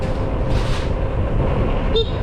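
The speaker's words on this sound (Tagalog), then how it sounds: "Yan, may busina." A brief car horn toot sounds near the end over a steady rush of road and traffic noise, heard from a bike coasting along a road with its engine switched off.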